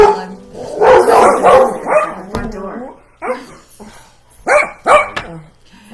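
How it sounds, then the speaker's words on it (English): Dogs bark in several loud bursts at someone at the door, mixed with people talking over them in a busy indoor space. "Yes, the doggies are barking, that there is someone at the door"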